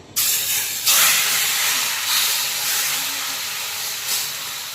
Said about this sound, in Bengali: এখন তেলটা আমি হাই হিটে গরম করে এর মধ্যে দিয়ে দিয়েছি সাউন্ডটা তো শুনতেই পাচ্ছেন